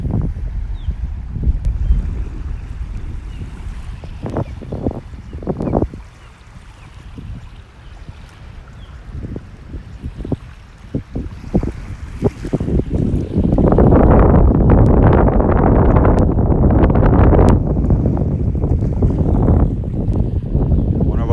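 Strong offshore wind at the beach at Wiggins Pass, Naples, Florida, buffeting the microphone in steady low roaring gusts that grow louder and more sustained in the second half.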